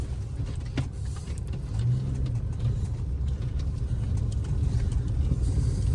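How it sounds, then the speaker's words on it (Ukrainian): Steady low engine and road rumble inside a moving car during a drive, with faint rattles and hiss, continuous and close, no talking. "Мама захотіла покататися на машині."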